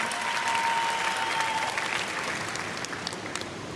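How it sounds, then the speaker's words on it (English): Audience at a Build Up Korea speech event clapping steadily, a dense, sustained round of applause that tapers slightly toward the end, with no talk over it. "Let's welcome her to the stage with a round of applause."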